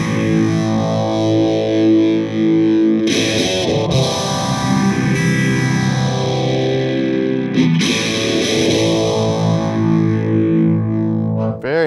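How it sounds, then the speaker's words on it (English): Electric guitar played through vintage distortion and phaser pedals, a thick sustained chordal tone with a slow sweeping phase whoosh, loud and close, with a brief strum break midway. "Then we got the distortion and the phase."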